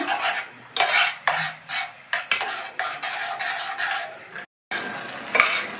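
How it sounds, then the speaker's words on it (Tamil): Cooked moong dal being stirred into jaggery syrup in a pot for payasam, with a series of spoon scrapes and clinks against the metal in uneven bursts, close and fairly loud, with a brief silent gap near the end. "ரெண்டையும் நல்லா மிக்ஸ் பண்ணி விட்டுக்கலாம்."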